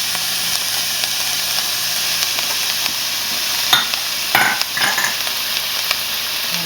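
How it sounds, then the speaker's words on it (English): Garlic frying in a pan, a steady close sizzle and hiss throughout with a few stirring scrapes near the end, no talking. "Put all that garlic in there."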